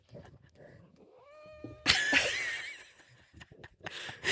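Two cats that dislike each other square off on a desk, one giving a rising, drawn-out yowl that breaks into a sudden loud burst of hissing and spitting scuffle, followed by short growls and a final flare-up, fairly close.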